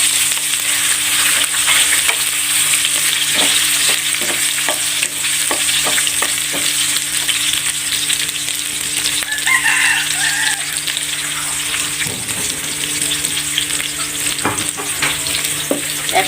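Chopped chili, carrot and nuts fry steadily in a pan for mustard greens, a continuous close sizzle with frequent crackles and scraping stirs, no talk.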